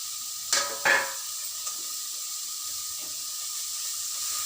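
Onion and carrot frying in a pan, a steady faint sizzle with a couple of sharp clatters near the start as pieces drop in, no voices.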